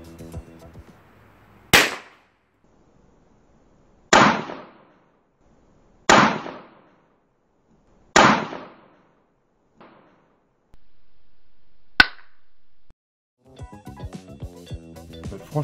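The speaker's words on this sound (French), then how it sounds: "c'est obligé de brûler d'un coup et de faire une explosion" A fuel-filled capsule explodes: four sharp, loud bangs go off one after another at steady intervals, each with a short crackling tail, followed by a smaller pop and then quiet.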